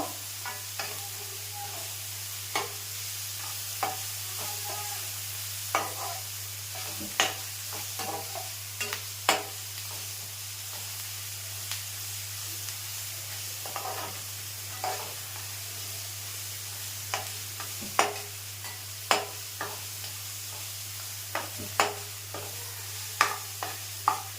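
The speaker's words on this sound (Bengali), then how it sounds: "এটা বেশ ভালো করে নাড়া দিয়ে নেব, লাল লাল করে একটু ভেজে নেব।" Onions sizzle and fry in a pan for soybean ghugni, with steady hiss and repeated scraping clicks from stirring, close and alone without talk.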